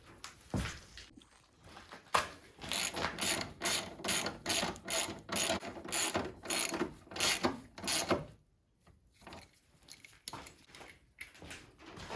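A ratchet cranks steadily on bolts at the battery of a Skoda Favorit, a long run of quick rhythmic clicking strokes up close, then a pause and a few lighter clicks.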